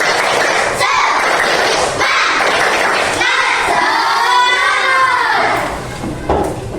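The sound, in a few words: schoolchildren's rhythmic clapping chant, tepuk semangat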